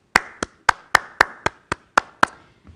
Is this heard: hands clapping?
yes